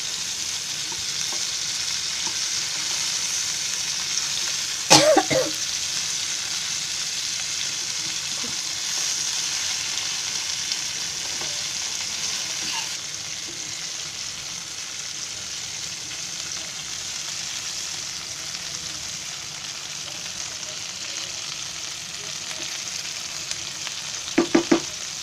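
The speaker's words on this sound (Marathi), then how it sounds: "अशी एका बाजूला करून भाजून घ्यायची एक सेकंदने." Garfish, also called toll fish, frying in a pan: a steady close sizzle continues throughout, with a few sharp clinks of a utensil against the pan near the start and end.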